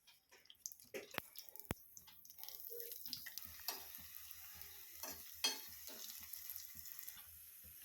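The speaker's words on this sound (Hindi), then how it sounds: "दाल को फ्राई कर लूँगी" Dal with makhana frying and being stirred in a pan in a village kitchen, with close scraping stir strokes, soft sizzle and clinks, and a few sharp knocks near the start.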